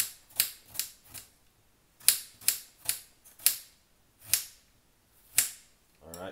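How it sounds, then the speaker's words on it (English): A knife chops a red onion on a cutting board at home, about ten crisp, distinct knocks in an uneven rhythm with short pauses between them, close and clear with no voices. "So cut up your red onion."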